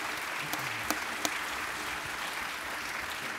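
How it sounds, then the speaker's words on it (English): Applause from a conference audience for a morning panel discussion, a steady, moderately distant patter of many hands with a few sharper claps standing out. "how about a nice round of applause for our great panel today?"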